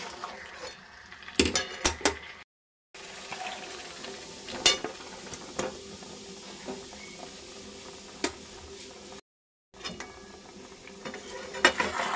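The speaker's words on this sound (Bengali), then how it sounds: "এবার আমি দিয়ে দিচ্ছি আগে থেকে ম্যারিনেট করে রাখা মাংসটা" Marinated chicken pieces for chicken curry with potatoes going into a hot pan: soft frying sizzle with scattered clinks and scrapes of a utensil against the pan, two brief gaps of silence, no talk.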